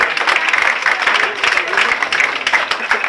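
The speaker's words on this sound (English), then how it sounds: "I'd like everyone to put our hands together and give Andy a good cheer" An audience applauds and cheers for Andy, with dense, sustained clapping from a room full of people that stays loud and even throughout.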